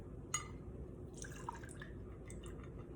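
Water is poured off settled potato starch in a container, giving faint trickles and a few distinct drips and splashes, quiet and close with a soft background hiss.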